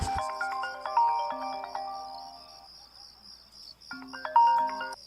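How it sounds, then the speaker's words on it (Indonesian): Melodic phone ringtone for an incoming call, a rising chime phrase playing twice with a pause between, loud and close against a quiet background, no talking. "tiba-tiba ada telepon yang masuk dari atasanku"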